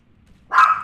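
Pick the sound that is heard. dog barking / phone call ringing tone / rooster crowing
dog barking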